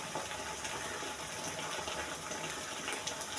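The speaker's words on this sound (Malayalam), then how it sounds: "നമുക്കിനകത്ത് പച്ചവെള്ളം ഇട്ട് കൊടുക്കുന്നു." Plain water gushes steadily into a cooking pot for a chicken dish, a continuous close rushing pour with no talk.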